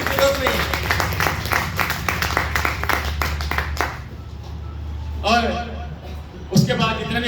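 A seminar audience at a network-marketing event claps for the company's co-founders, dense hand claps running steadily for the first few seconds, then someone talks over a fading hall.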